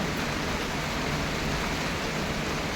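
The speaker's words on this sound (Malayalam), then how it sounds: "ഇങ്ങോട്ട് നല്ല മഴയാണ്" Heavy rain pours down in a dense, unbroken hiss, steady and close, with no voices.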